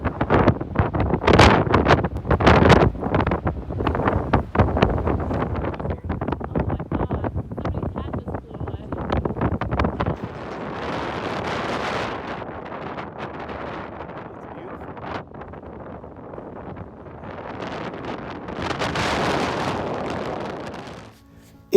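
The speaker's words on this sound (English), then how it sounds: "We ended up down here in Inch Beach, and boy, was it windy." Strong gusts of wind roar across the microphone at Inch Beach, Ireland, loud, buffeting and continuous, surging in bursts with no quieter gaps.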